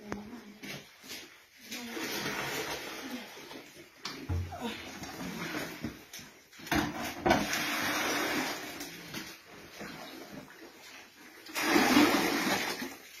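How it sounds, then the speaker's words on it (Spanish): Water sloshes and splashes in bursts as workers bail floodwater out of a flooded rural health post after heavy rain and hail, moderately close, with faint voices in the background. "Acá los trabajadores del puesto de salud están sacando agua."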